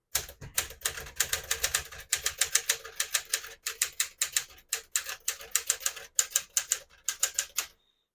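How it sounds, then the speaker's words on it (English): Crisp, close keystrokes from a 1961 Smith-Corona Sterling portable manual typewriter clatter in quick bursts with brief pauses, the mechanical clacks steady and fairly loud, no voices. "Beautiful typing machine."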